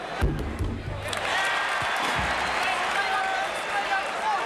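A large basketball arena crowd of about 22,000 roars steadily during a UNC versus Georgia college game, broad sustained cheering with a few thumps early on, a commentator talking over it.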